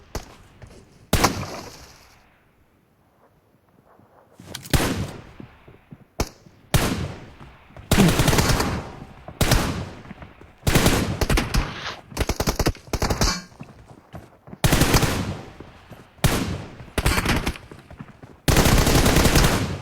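Gunfire in a team deathmatch mobile shooter tournament: loud bursts of automatic fire and single shots in irregular clusters, opening with a quiet gap and then growing denser, with rapid volleys toward the end.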